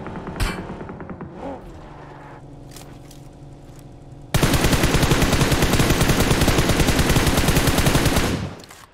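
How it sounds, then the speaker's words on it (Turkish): Sustained automatic gunfire in PUBG Mobile erupts halfway through, loud, close and rapid, after a quieter opening of scattered sounds, then cuts off near the end. "Herkese sıkıyorum. Oradan o sıkıyor, buradan bu sıkıyor."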